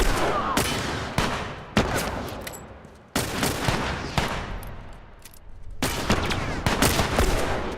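Gunfire crackles in the video game The Last of Us, a string of loud, close shots and short volleys that each cut off sharply, with brief quieter gaps between them.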